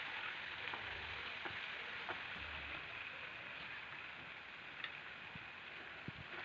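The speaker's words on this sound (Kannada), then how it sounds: "ಈ ಥರ ಚೆನ್ನಾಗಿ ಫ್ರೈ ಮಾಡ್ಕೋಬೇಕು ಉಳ್ಳಾಗಡ್ಡಿ ಮತ್ತು ಟೊಮೆಟೊ ಹಣ್ಣು." Onion and tomato fry in oil in a pan, giving a steady soft sizzle with occasional faint ticks and stirring sounds, close and low in level.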